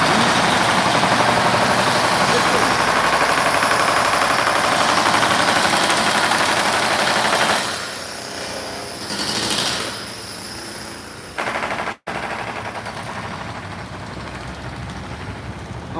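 A loud, steady motorbike engine drone runs for several seconds, then drops off sharply, leaving a quieter rumble with short bursts of revving, in a Lynbrook neighborhood street in New York.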